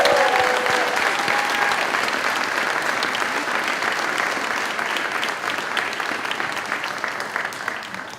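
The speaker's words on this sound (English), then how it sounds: "Please join me in giving a round of applause to the exceptional faculty and staff of Schechter." An audience at an eighth-grade graduation ceremony applauds the faculty and staff, steady, dense clapping filling the hall for several seconds and tapering slightly toward the end.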